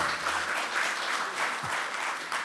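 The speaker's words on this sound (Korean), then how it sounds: "박수 부탁드립니다" An audience applauds steadily at an awards ceremony, with dense clapping from a sizeable crowd that stays even and fills the hall for a couple of seconds, with no voices.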